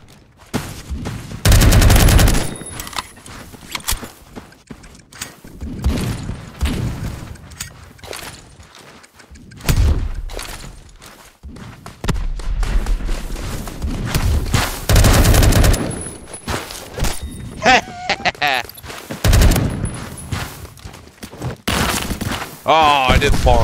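Desert Eagle pistol fire in the Roblox shooter Phantom Forces, loud repeated sharp shots and bursts of gunfire spread across the clip with brief gaps, mixed with other in-game weapon fire and impact thuds, a player talking excitedly over it.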